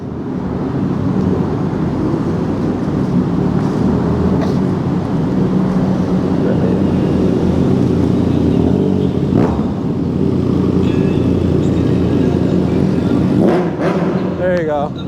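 Motorcycles rev and pass on a road, a loud continuous engine drone that holds for about fifteen seconds, with a brief rising rev near the end.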